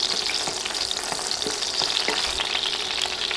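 Whole dried red chillies with stems fry in a pan over medium heat, a steady close sizzle with light scraping stir strokes and a few soft pops, no voices.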